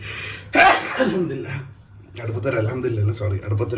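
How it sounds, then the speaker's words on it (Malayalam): A single sharp sneeze, set off by handling black pepper while cooking at a home stove in Dubai, bursts out close to the microphone. A person talks before and after it. "കുരുമുളക് എടുത്തതിന് തുമ്മലാണ് നിങ്ങളിപ്പോൾ കേട്ടോ"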